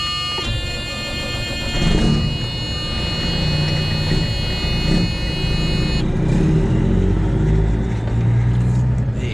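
A truck pulling around to a loading dock during a freight run, its engine a steady, fairly loud rumble with road noise throughout and a brief high electronic tone early on.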